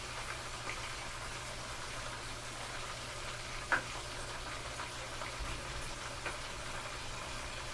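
Chicken fries in a pan after being flipped, a steady soft sizzle with low crackle and a background hum, one brief sharp tap partway through, no voices.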